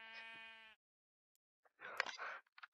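Sheep bleating in the Minecraft VR video game: one sustained harmonic bleat, fairly quiet, then a brief pause before a louder burst of mixed game noise.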